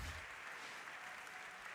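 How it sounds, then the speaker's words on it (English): Spectators at a speedcubing world championship applaud after a competitor's final solve, a faint, steady wash of distant clapping. "a big round of applause there for Max as he finishes his last solve of the competition."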